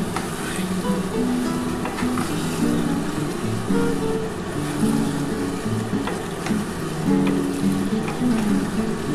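Yogurt-marinated chicken sautéing in a pan gives a steady, fairly loud hiss and sizzle with no pauses, and a faint low hum runs underneath.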